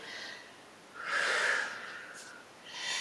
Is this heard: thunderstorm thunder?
no